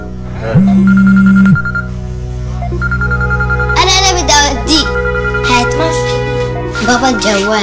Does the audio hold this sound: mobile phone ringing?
yes